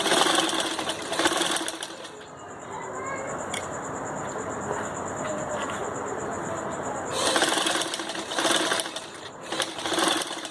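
A sewing machine runs a steady stitching burst along the seam of a turban, continuous for several seconds before stopping, with quieter handling noise around it.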